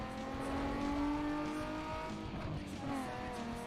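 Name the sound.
Toyota Supra engine noises in video game Need for Speed Underground 2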